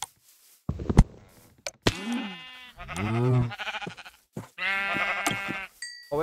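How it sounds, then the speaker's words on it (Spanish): Blocky Minecraft sheep bleating in the video game, several wavering baa calls in a row with short pauses between them, clear and alone with no voices. "Oveja tienes."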